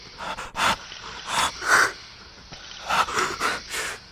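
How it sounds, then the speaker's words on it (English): A person gasps and wheezes for breath while lying in a hospital bed, a series of short, strained, ragged inhalations and exhalations close by, with brief pauses between. "Suddenly you gasp for breath."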